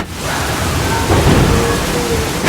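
Heavy monsoon-season rain pours steadily with a low rumble of thunder rolling through the middle, loud and close with no voices.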